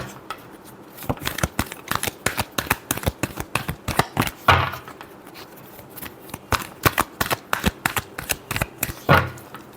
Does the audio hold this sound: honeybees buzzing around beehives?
no